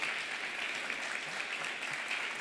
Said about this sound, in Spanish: Fuerte el aplauso vamos para a aplaudir.